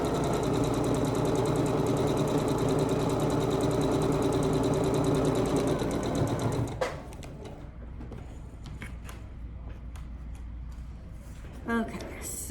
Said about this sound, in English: Now I'm going to sew on the line.